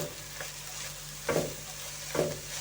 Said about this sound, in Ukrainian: продовжую смажити